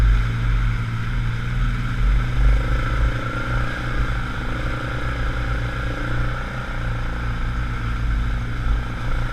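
An ATV engine drones steadily in low gear while crawling through rutted, flooded trail ground, a continuous mid-loud motor hum with slight surges and no talk.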